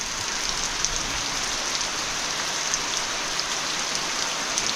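Heavy unseasonal April rain pours and drips from the roof eaves of a Konkan village home, a dense, steady hiss of falling water with scattered close drip patters, continuous and loud with no voices.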